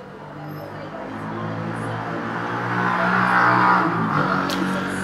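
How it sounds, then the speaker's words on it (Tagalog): Motor tricycles pass by outside, engine drone swelling and fading as one approaches and recedes, steady and continuous with no talk. "Naririnig niyo ba yung mga tricycle?"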